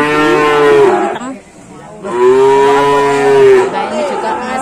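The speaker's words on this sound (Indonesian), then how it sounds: "Ini ada yang dipanggil sapi pedetan." Calves mooing at a cattle market, two long, loud, close bellowing calls with a brief pause between, over faint crowd chatter.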